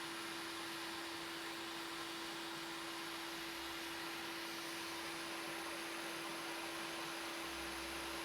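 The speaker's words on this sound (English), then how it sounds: "Now I'm going to come in with my hot air again and heat up that whole area." Hot air rework station heating the solder area around a chip on an Xbox board, giving a constant, even blowing hiss with a steady tonal hum beneath it, unbroken and moderately quiet throughout.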